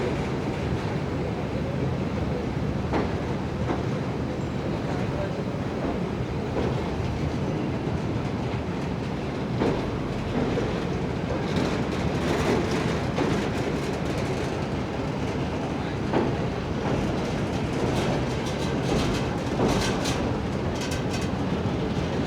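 An Intercity Express train runs on the rails between Angadippuram and Ernakulam. A continuous loud rumble and rattle of the moving coaches carries steady clicks from the wheels and side rails throughout, with no talk.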